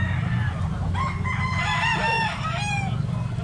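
Chickens at a market fill the air with clucks and crowing roosters, several birds calling over one another against a constant low hum of crowd and background noise.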